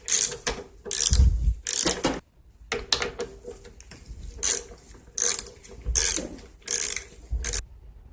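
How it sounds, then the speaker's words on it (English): A 7mm ratchet works carburetor bolts loose on a Murray mower, giving bursts of rapid clicking in an uneven rhythm with short pauses between turns, close and fairly loud; no talking. "This is a 7mm to take these carburetor bolts off."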